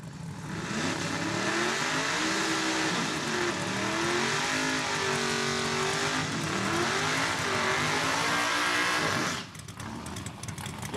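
At a drag strip, big-tire race cars heat their tires before a final, producing a loud sustained engine roar with wavering revs and tire noise that cuts off abruptly near the end, recorded close.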